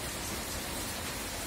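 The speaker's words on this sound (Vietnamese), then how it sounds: "Thì hiện tại giờ cũng trời đang mưa các chú" Heavy rain falls at night in Vietnam, a steady, dense hiss of downpour that stays fairly faint and continuous with no voices.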